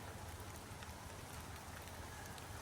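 Rain pouring steadily in a cemetery in Alaska, an even, constant hiss of drops falling all around, moderately faint and with no talking.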